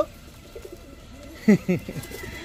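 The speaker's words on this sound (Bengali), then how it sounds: "3 জোড়া কালারিং গিরিবাজ কবুতর, হাইফ্লার গিরিবাজ কবুতর" Colored high-flyer Giribaz pigeons coo nearby, two soft throaty coos sounding close together against a quiet background murmur.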